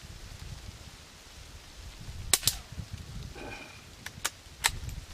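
A Remington 510 Targetmaster .22 bolt-action rifle fires a few sharp, light cracks at a target about 45 yards away outdoors, with faint clicks between the shots over a steady background hiss.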